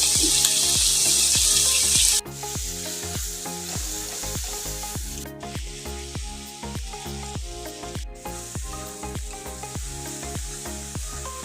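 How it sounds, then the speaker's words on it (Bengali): Green chili paste with salt, turmeric and Kashmiri chili powder frying in a pan, a steady loud sizzle with rhythmic scraping strokes of a stirring spoon throughout, no voices. "কাঁচা লঙ্কা পেস্টটা দিয়ে আমি এবার ভেজে নেব"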